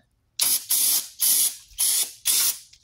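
Five short, loud bursts of aerosol brake cleaner sprayed onto a new Duralast front brake rotor for a 2010 Hyundai Sonata, each hiss lasting about a third of a second with brief gaps, close to the mic.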